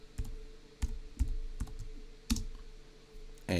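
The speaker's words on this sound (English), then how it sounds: "I'm going to type in USDA" Keys clacking on a computer keyboard as a short line of ad text is entered, a handful of separate clicks spaced irregularly, close and fairly quiet, with no talking.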